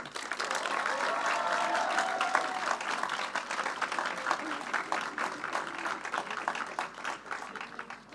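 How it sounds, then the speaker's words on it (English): Graduation ceremony audience giving a round of applause, a sustained crowd of many hands clapping at moderate loudness, with faint voices mixed in and the clapping gradually thinning toward the end. "So please give a round of applause for Lucas."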